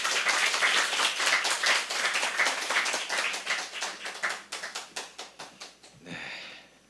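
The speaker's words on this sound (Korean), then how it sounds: "목사님 나오실 때 큰 박수로 환영하겠습니다" A church congregation claps steadily in unison to welcome a visiting pastor at a Sunday revival service, the dense applause thinning into scattered claps before ending.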